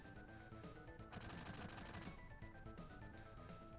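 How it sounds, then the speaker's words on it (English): Rapid automatic gunfire in the video game Final Fantasy VII, a dense burst of repeated shots building to a louder stretch in the middle, with background game music underneath. "Let's hear some gunshot sounds."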